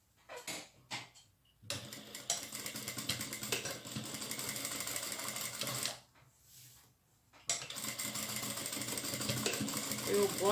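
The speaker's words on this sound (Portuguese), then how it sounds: "Então vamos costurar só até onde costuramos da primeira vez." Home sewing machine running in long continuous stitching bursts, pausing once, while seaming the upper part of a drawstring backpack-style fabric bag with an enclosed finished seam; close and steady.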